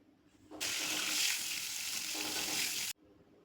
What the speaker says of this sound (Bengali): এবার কড়াইতে তেল গরম করে পটলগুলি হালকা সোনালি রং হওয়া পর্যন্ত ভেজে তুলে